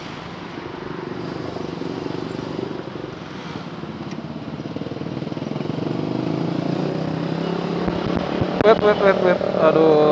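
A Kawasaki W175 motorcycle engine drones steadily nearby and grows a bit louder, with a person briefly speaking over it near the end.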